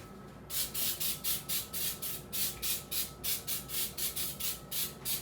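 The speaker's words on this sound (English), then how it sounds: "We're going to grease that with our Baker's Joy, my favorite that I always use." Baker's Joy baking spray hisses in a series of short, even bursts, about fourteen quick rhythmic sprays in a row, close up while greasing a small baking dish, with no talk.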